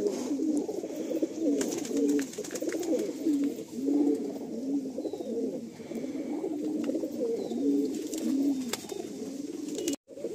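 Madrasi pigeons coo continuously in a pigeon loft, a dense overlapping chorus of low, rolling calls from several birds close by, steady throughout without talk.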